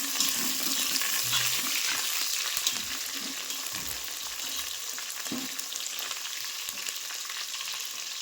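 Masala fries in a pan with a steady, loud sizzle, broken by occasional stirring scrapes.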